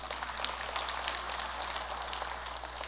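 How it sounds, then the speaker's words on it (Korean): Congregation at a Buddhist Sunday service at Jogyesa temple applauds, a soft, steady patter of many hands heard from a distance under a low hum. "우리 꽃빛 열애들에게 박수 한번 쳐요."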